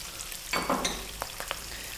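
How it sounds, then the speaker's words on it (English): French beans go into a hot pan for a vegetable curry and sizzle, a burst of frying noise followed by a few short stirring clinks, fairly close. "Now, I'm going to add now my French beans"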